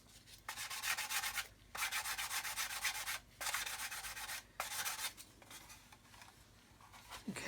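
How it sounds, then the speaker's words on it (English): A coarse sander rasps against a model aircraft's wing root in four or five firm strokes of about a second each, separated by short pauses. The scraping is close and fairly loud, and no one talks. "I'm going to use the coarser sander here just to remove some of that meat from there"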